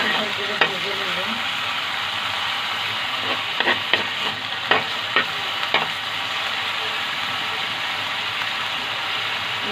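Bottle gourd peels fry in a well-seasoned wok, giving a steady close sizzle broken by sharp scraping clicks from a stirring spatula.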